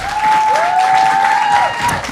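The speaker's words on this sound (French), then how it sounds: "On les applaudit" A live audience at a French-language podcast taping applauds its guests, with dense, loud clapping filling the whole stretch while a steady tone and a gliding whistle-like tone ring over it.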